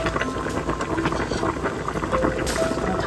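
A pot of samgyetang, Korean chicken soup, simmers on the stove with a continuous bubbling, rumbling boil, steady and fairly loud and close throughout, with no voices.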